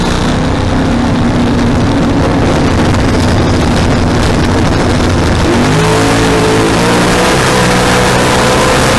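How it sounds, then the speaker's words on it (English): A loud LS-powered single-turbo Mustang drag car engine idles and revs at a drag race qualifying event, with a steady harsh rumble that rises in pitch near the end, with no talk. "Mustang, LS powered, single turbo, Jeff Boyd, doing the tuning."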